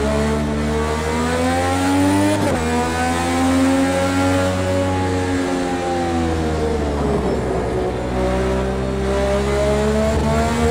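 A race car engine in Project Cars 2, driven with a racing wheel, whines and revs steadily, its pitch rising and falling through gear changes with a sharp shift early on.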